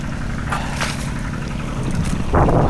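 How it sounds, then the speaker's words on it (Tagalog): Strong wind buffets the microphone outdoors in a steady, loud rumble with gusty surges that swell near the end. "Medyo humupa-hupa na yung lakas ng hangin."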